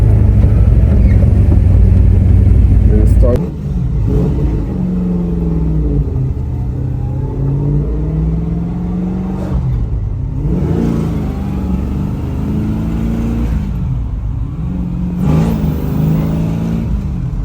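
A 1970 Chevrolet Chevelle LS6 V8 roars loudly from inside the car, then settles into a deep rumbling pull as it accelerates through the gears, with the engine note rising and dropping at each shift.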